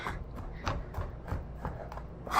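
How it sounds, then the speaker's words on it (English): A knife chops ginger finely on a cutting board, giving a quick irregular series of sharp close taps with soft scraping between them. "you're just chopping it until it is the correct size that you want it to be"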